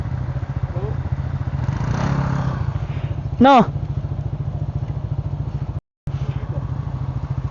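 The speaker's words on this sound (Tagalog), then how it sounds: "Itabi-tabi natin lahat ng motor natin ba?" Motorcycles idle with a steady rhythmic putter at a rainy overnight riders' campsite, with a brief sharp rev partway through and people talking nearby.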